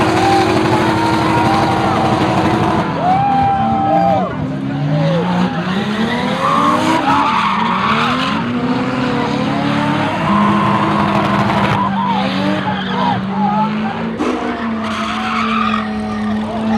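A supercharged Honda S2000 shreds its tires at a car show, a loud sustained squeal with the engine revving and pitching up and down through repeated pulls, close and continuous, with voices faintly underneath.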